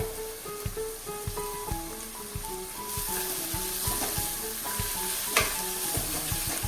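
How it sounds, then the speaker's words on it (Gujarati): Steady crackling sizzle of green garlic and onions sautéing in hot oil, with clinks and scrapes of stirring, close and continuous. "તેલની અંદર બધું આપણે સાંતળીએ"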